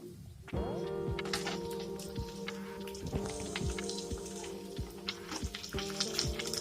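Onion and vegetable pieces frying in a pan for wheat rava upma, a steady crackling sizzle that jumps louder after a soft start and runs close and continuous, with occasional sharper pops and light stirring scrapes.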